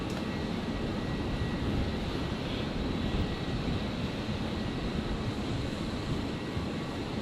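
Qantas 737 lining up on runway 01 right at Brisbane for a flight to Perth, a steady, moderately loud engine rumble with a wind-like hiss continuing evenly throughout, no voices.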